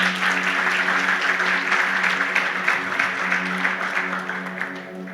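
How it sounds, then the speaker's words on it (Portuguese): A congregation claps together during a church service, with continuous, fairly loud applause and no pause over several seconds. "Uma salva de palmas para o Senhor."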